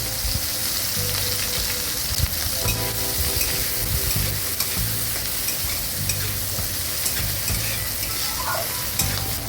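Shrimp frying in mustard oil in a wok, a steady loud sizzle with occasional stirring scrapes running continuously throughout.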